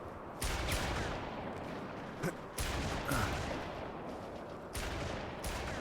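Bursts of gunfire aimed at a radio mast in the shooter Haze, sharp rattling volleys repeating every second or so over a noisy battlefield background.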